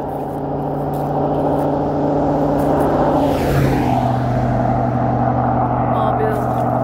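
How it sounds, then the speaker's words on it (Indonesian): A car drives past on a property in the United States. It swells to a peak around the middle and fades over a steady engine hum. Someone talks briefly. "Mobil."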